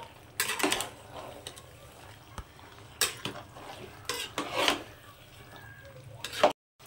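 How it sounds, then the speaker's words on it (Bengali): A spoon scrapes and clinks around a pot while sugar is stirred into a cooking mixture, in a few irregular bursts of scraping with quieter gaps between them. "তো চিনিটা এবার এর সঙ্গে একটু ভালো করে মিশিয়ে দেবো।"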